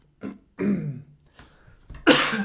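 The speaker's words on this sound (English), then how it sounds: "Excuse the coughing." A few separate coughs and throat clears, close and sharp, with short pauses between them.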